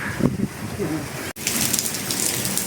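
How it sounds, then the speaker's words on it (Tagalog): Steady, dense rain pours down with a constant hiss and patter, briefly cutting out once before resuming just as heavily, during a trail ride in Bueno, Capas, Tarlac, Philippines. "Ay, lakas na ng ulan mga brother."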